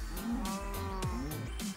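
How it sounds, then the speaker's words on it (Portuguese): Cow lowing in Minecraft Pocket Edition 0.13.1 as it is struck down, a few short harmonic moos in quick succession, close and clear with no talk over them. "Matando a vaca, morre vaca!"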